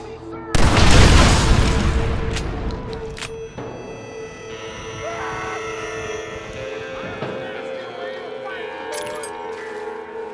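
Gunfire in the video game Red Dead Redemption, a loud burst of shots and booms at the start that fades into a lingering rumble, with game voices over the rest.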